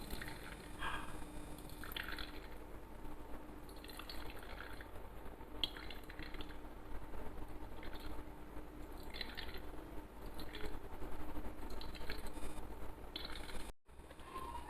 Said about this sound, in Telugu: ఇలా మనం ఈ ప్రెస్ చేస్తే ఇలా స్పూన్తో వాటర్లా వచ్చేస్తుంది